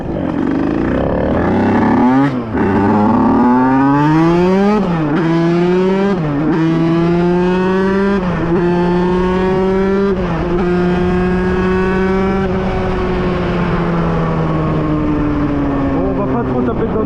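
A Beta 50cc supermoto two-stroke engine revs hard while riding, its buzzing pitch climbing and dropping through repeated gear changes, loud and close throughout with wind rush.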